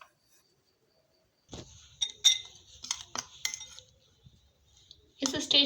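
Homemade chaat masala spice powder stirred in a metal container with a spoon, sharp clinks and scraping taps in an irregular run after a quiet start, close and moderately loud.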